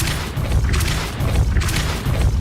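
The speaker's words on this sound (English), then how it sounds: "Coba kita pakai spell ini. Depulso." A Depulso spell cast in the video game Hogwarts Legacy lands as a pair of deep, booming blasts about a second apart, loud and close, with no talk over them.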